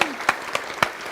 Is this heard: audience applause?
yes